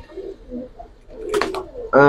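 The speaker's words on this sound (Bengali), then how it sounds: "নরমাল একটা গিরিবাস ভাই গুটি পাখি" A giribaz pigeon, a plain tumbler-type bird, gives soft low cooing calls under nearby voices and handling noise, with a louder, fuller burst of cooing at the end.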